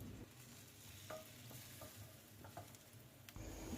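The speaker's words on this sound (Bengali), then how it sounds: "হালকা গরম তেলে ফেটে রাখা ডিম দিয়ে দিচ্ছি" Beaten eggs cooking in warm oil in a pan for an egg and cucumber stir-fry, a low steady sizzle under a few soft scrapes of stirring, ending in a slightly louder burst.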